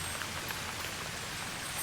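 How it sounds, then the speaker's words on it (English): Steady rain from the video game False Hero, an even, close wash of falling drops with faint scattered patters, no talking. "This rain, I quite like it."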